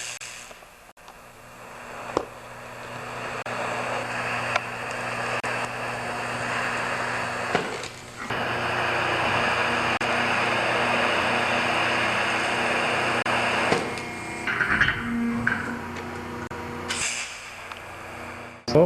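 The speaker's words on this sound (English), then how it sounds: "Now he's going to weld part of the other side." A MIG welder lays beads on the auger bushing of a Toro snowblower, giving a steady, close crackling buzz in long sustained runs that pause briefly between welds.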